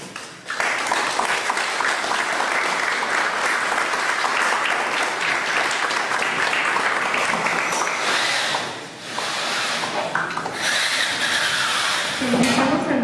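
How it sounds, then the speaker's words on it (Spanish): Sustained, loud audience applause after a lecture at a lawyers' association event fills the room for about eight seconds, dips briefly, then swells again, with a voice rising near the end. "para quien pido nuevamente un fuerte aplauso"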